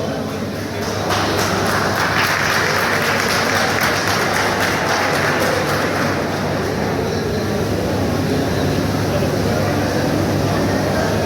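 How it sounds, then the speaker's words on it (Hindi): Audience at an event launching the Johar TV app breaks into loud, sustained applause, a dense roar of clapping that swells after the first second and holds steady throughout. "जोर से ताली बजाओ"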